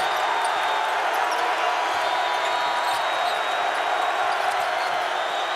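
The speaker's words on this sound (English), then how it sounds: "Listen to this crowd." Crowd at a college basketball game between Texas Tech and Houston, a dense continuous roar of many voices filling a large arena, loud and steady throughout.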